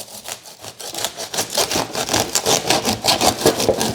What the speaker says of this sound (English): I'll get the trusty old saw out, and I'm just going to chop